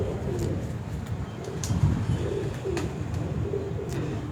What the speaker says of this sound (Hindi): सर ये चीने कबूतर है। डब वाले जो चीने हैं लाल आँख के,